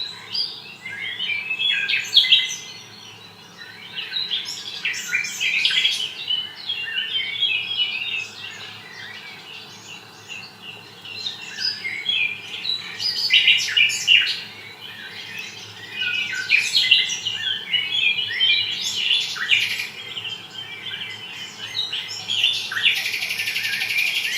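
Birds chirp and tweet steadily at a zoo, with a dense, continuous chorus of high calls over low background hum and no talking.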